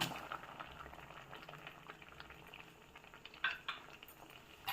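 Drumstick soup with salt and turmeric simmers in a pot, a faint low bubbling with a few light clinks of a utensil against the pot.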